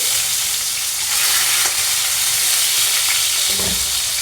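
Mustard seeds, cumin, urad and chana dal and chopped onion frying in hot oil for a tomato curry, a loud close continuous sizzle and hiss with occasional stirring scrapes, no talking.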